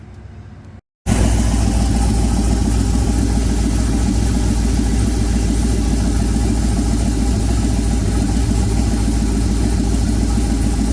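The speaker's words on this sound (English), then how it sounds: "Now start the car up, make sure it don't leak." A 1996 Camaro engine cranks and catches after a brief silence, then settles into a loud, steady idle with a deep low rumble that continues unbroken to the end.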